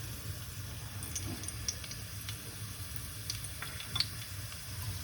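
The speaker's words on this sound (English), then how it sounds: "Okay, now the garlic is sizzling here" Garlic and rosemary sizzling in olive oil in a pan, a soft, steady crackle and hiss with a few faint pops, quiet and close.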